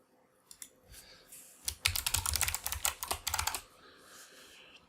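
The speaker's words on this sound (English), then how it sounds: "Let me just type this in." Rapid bursts of typing on a computer keyboard, close and fairly loud, with a dense flurry of keystrokes in the middle and a few scattered taps before and after, no talking.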